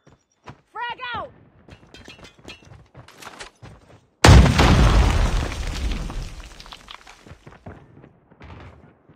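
A frag grenade detonates in a Call of Duty match, a sudden loud boom that rumbles and fades over several seconds, following game voice lines, clicks and short effects that continue quietly afterward.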